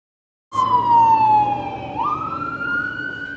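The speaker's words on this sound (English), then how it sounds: "Engine 193 races down the road for an emergency" A fire engine's siren wails loud and close as the truck races down a road in Franklin Township, central Ohio, answering an emergency call, its pitch sweeping and swelling over the rumble of the heavy engine.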